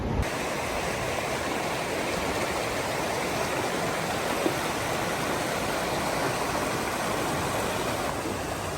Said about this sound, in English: also there is a river back there